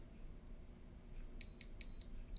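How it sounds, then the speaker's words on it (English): A few short, high electronic beeps in a quick pattern over a quiet hum from a Holy Stone HS600 drone controller searching for the drone. "it's beeping, of course, because it's looking for the drone"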